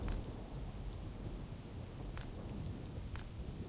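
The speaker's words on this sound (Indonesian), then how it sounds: "Tapi gua suka hujan ini." Rain and thunder in the MMORPG Chu Liu Xiang: a steady dense hiss of rainfall with low rumbling beneath, broken by a few sharp crackling thunder cracks spaced a second or so apart.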